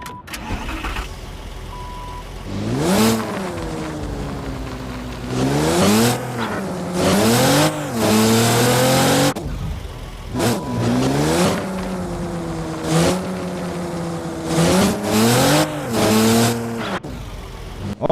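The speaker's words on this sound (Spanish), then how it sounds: "Este vendría a ser el famosísimo Nissan GT-R, ¿vale? Entonces vamos a ver qué tal suena este." Nissan GT-R engine in the mobile driving game Car Parking Multiplayer 2, revving repeatedly in loud, rising and falling bursts separated by short idle pauses, with no talking.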